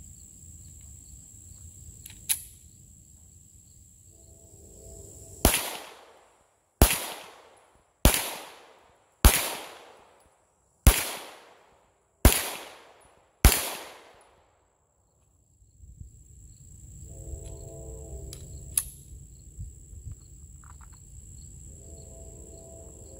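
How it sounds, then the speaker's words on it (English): Seven sharp, loud pistol shots from a Canik TP9SFX at an outdoor shooting range, fired at a steady pace, each with a short decaying echo, with faint ambient noise before and after. "Going to take a few shots just to test how well the gun functions."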